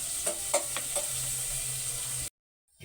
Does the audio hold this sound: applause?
no